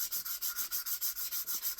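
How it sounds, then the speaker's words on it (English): Carved wood being sanded by hand with 150 grit sandpaper, a steady rhythmic back-and-forth rasping of about ten even strokes, close and alone. "I'm probably just gonna stick to 150 grain sandpaper to start."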